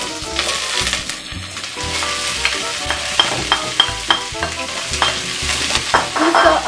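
Cabbage is stir-fried in a pan, with loud, close hissing sizzle and repeated rhythmic clanks and scrapes of a utensil stirring throughout, with no speech.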